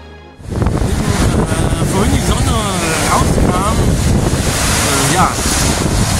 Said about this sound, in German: Weht es jetzt wieder richtig ordentlich.